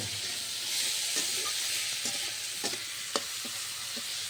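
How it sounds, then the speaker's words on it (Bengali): Dal cooking in a pot over a wood fire outdoors in the morning, with a steady hiss of steam and sizzle and occasional light clicks and scrapes of stirring, close and without speech. "কাঠে রান্না হচ্ছে"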